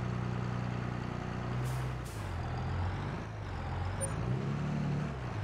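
A tractor in Farming Simulator drives with a steady, moderate engine drone and low hum, the pitch shifting slightly as it moves, with a few brief hissing and clicking game sounds.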